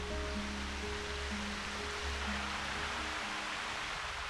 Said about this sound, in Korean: 1년 내내 비가 오지 않아도 마르지 않는 폭포입니다